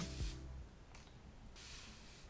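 Two short hissing bursts of fine setting spray mist from a Benefit Porefessional Super Setter bottle, soft and close, with a quiet pause between them.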